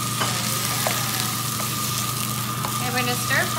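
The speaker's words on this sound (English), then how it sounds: "We're gonna stir fry this." Shrimp sizzles steadily in a hot pan during a stir fry, with a constant frying hiss and occasional scraping clicks from stirring, ending in a brief louder rattle.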